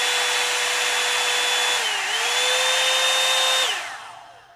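A hair dryer running with a steady, loud whine and rushing airflow, its pitch dipping briefly midway before the motor winds down and cuts off near the end, with no talk.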